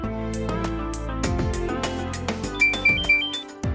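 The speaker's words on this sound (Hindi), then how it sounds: "विहान का फोन आ रहा है" An incoming call sets off a phone ringtone in a family home: a loud, close melodic tune of repeating tones that plays alone for several seconds.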